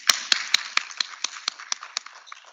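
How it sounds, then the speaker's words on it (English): A short burst of about ten crisp claps at a law conference session thins out and fades within a couple of seconds, with no talking over it. "Let's appreciate everybody with a clap."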